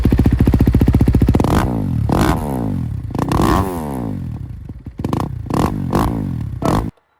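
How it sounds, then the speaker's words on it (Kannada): A Kawasaki KX 250 dirt bike's 250cc engine fires up close and loud with a rapid staccato exhaust note, then revs in repeated sharp blips and rising sweeps before cutting off abruptly. "ಸೊ ಗಾಡಿದು ಎಕ್ಸಾಸ್ಟ್ ನೋಟ್ ಕೇಳೋಣ ಇವಾಗ"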